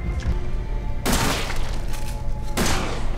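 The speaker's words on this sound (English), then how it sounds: "shoot with a shotgun" Shotgun blasts in Resident Evil 7 fire twice, each a loud, booming crack about one and a half seconds apart, with a dense rumbling game background between them.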